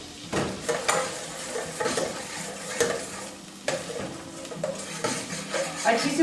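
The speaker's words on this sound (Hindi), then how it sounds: "गार्लिक पेस्ट को हल्का सा फ्राई करेंगे।" Garlic paste lightly frying in a pan for a stovetop chicken pizza, with a steady close sizzle broken by repeated stirring scrapes and clinks of a utensil against the pan, no talking.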